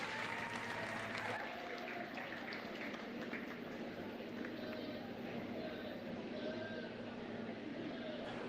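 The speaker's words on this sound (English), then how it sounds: "Go ahead and give all the kids in the drive a nice round of applause." A crowd applauds the kids at a county 4-H goat show, with steady clapping throughout. Goats bleat nearby, and a voice speaks over the arena.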